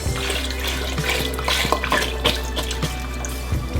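Chicken broth pours from a container into a pot of seafood gumbo, a close continuous liquid splashing and trickling stream with small drips and clinks, no talking.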